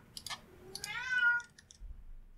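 Kira, a kitten-aged cat, gives one clear rising-and-falling meow close by, with light clicks before and after it.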